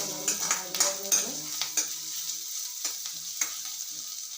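A khichdi-based snack is stirred and fried golden brown in a pan, with a soft oil sizzle under repeated scraping strokes of a spoon against the metal, close up and irregular.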